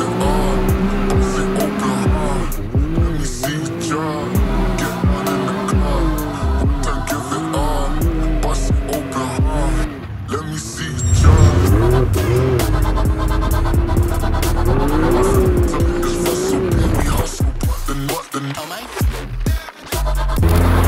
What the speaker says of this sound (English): Alex, I will whip some donuts in this thing and get the tires smoking